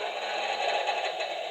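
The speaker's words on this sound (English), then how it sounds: "locking the brakes and unlocking the brakes." Sound effect of the brakes locking on an HO scale Broadway Limited ATSF 4-8-4 Northern model locomotive, a steady hissing air-release rush played from the model's speaker, continuous and fairly faint with no talking.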